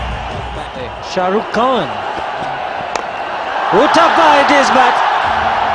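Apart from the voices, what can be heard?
cricket stadium crowd cheering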